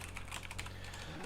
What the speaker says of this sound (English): Not a great typing day.